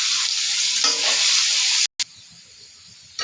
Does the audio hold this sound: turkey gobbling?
no